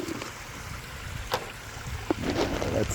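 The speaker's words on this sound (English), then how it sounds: "Man, look at that waterfall. It's just really, really crashing down." A garden pond waterfall crashing down outdoors, heard as a steady broad wash of falling water with a few brief splashes and knocks on top, fairly close and without speech.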